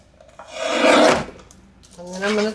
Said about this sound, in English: Now I'm going to bring in my larger guillotine, and I'm going to cut the folds right here.